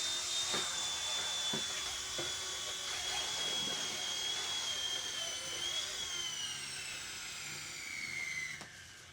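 A Goolrc C129 mini 6-axis RC helicopter hovers and touches down with a steady high-pitched motor whine and rotor buzz, the pitch sliding downward before cutting off abruptly near the end.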